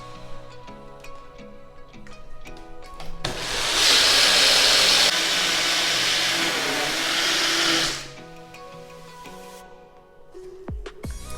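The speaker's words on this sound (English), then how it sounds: "You want to blend this till your dressing is completely smooth." Vitamix blender whirring loudly and steadily for about five seconds while blending cashew vegan salad dressing, starting and stopping abruptly amid quieter kitchen background sounds.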